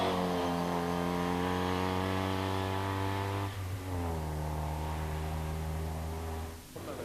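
Opel Ascona rally car, number 65, at a 1992 junior rally in Somero, revving hard through the gears with sharp shifts, its engine note climbing steadily at moderate distance.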